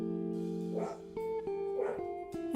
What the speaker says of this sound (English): Something's got my dogs upset.